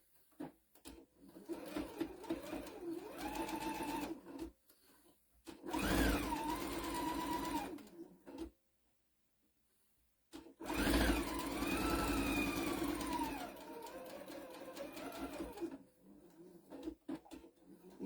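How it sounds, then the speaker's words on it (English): A sewing machine stitches a quarter-inch seam down the long side of a fabric bookmark, running in several steady, whirring bursts, with a short silent pause between them. "Then I'm going to use a 1/4 inch seam. And I'm just going to sew down the long side."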